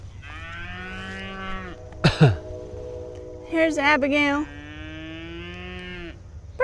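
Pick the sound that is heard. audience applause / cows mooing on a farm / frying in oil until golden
cows mooing on a farm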